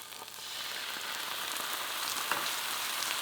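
Gochujang paste, tomato puree and soy sauce frying in a pan, a steady, close sizzle with soft crackles throughout and no voices.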